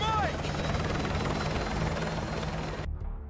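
Helicopter in Modern Warfare 2 Remastered, a steady whirring rotor drone held throughout and cut off abruptly near the end.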